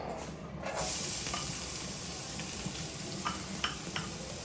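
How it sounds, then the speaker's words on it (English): Onion and garlic sauté in a pan with a steady close sizzle, joined by scraping stirs and a few light clicks of the utensil, with no voices. "So first what we're gonna do, we're gonna saute some onion and garlic."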